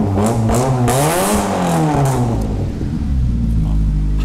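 A modified car's exhaust is revved in a garage after its clamps are removed, a loud, close engine roar rising and falling in pitch before settling into a steady deep rumble.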